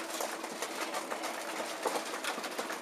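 Racing pigeons of Meuleman x Claessen lines murmur and coo inside a loft, a dense, continuous soft chorus with flutters and shuffling throughout, no talk.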